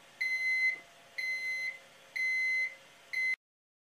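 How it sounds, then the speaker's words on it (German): Four shrill piezo buzzer beeps from a laser engraver's flame-sensor alarm, each a steady high electronic tone lasting about half a second, evenly spaced and heard alone in a quiet room. "Daneben ist ein Piezo-Summer zu sehen, mit dem ein Alarmton ausgegeben wird"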